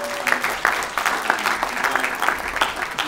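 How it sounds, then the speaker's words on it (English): A crowd claps for Controller Wendy Brew at a mayor's budget day event, dense steady applause, moderately loud and close, with no distinct voices over it. "just give Controller Wendy Brew another round of applause"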